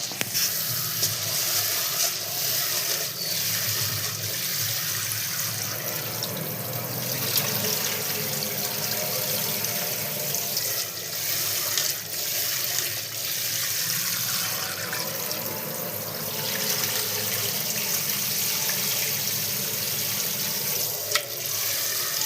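Tap water runs steadily as sago pearls are washed in a kitchen bowl, a continuous close hiss and trickle with faint splashes and no talking.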